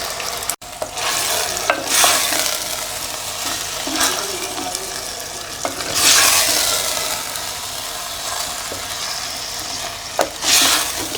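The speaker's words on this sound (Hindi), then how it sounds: "कीमे को प्याज के साथ घी में थोड़ी सी इसकी मैं भुनाई कर लूँगी।" Beef mince frying with onions in ghee, a continuous sizzle broken by repeated bursts of stirring and scraping in the pan, close and moderately loud.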